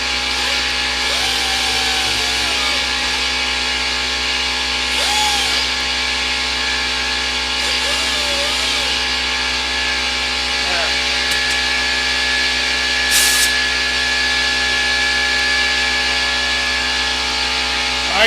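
Sanding a thermed wooden salt shaker on a spinning machine gives a steady, loud motor drone with a continuous abrasive hiss that holds unbroken throughout.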